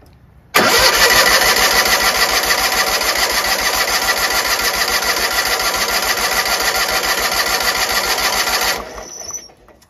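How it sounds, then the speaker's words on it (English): A Toro 616Z zero turn mower engine, suspected of a fuel pump fault, is cranked by its starter in one loud, steady, rapid whirring burst of about eight seconds without catching, then it cuts off. "I'm gonna crank it and let's see if fuel pumps out of there"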